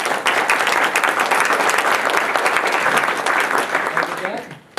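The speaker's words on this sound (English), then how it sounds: "we give a round of applause" A crowd applauds with steady, dense clapping that holds for several seconds before fading out at the end.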